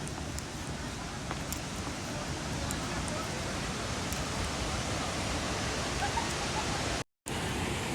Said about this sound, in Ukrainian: Ви вже чуєте, да, шум річки?